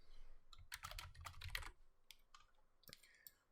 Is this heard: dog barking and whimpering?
no